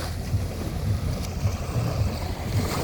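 Sea waves and wind at the shore, a steady rushing wash with low rumbling surges and wind buffeting the microphone, continuous and fairly loud with no voices.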